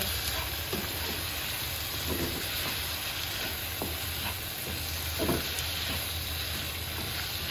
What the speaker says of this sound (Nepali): मजाले मिक्स गर्ने, यसलाई मासुलाई मजाले मिक्स गर्ने।